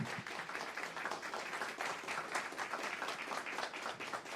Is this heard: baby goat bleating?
no